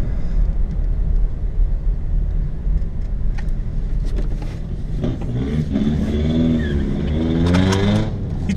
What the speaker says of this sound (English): He just peeled out